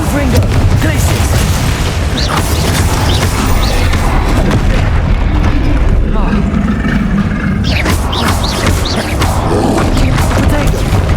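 Rapid Confringo and Glacius spell impacts in Hogwarts Legacy combat, a dense run of booming blasts and crashes layered over game music and a shouting voice calling out spells.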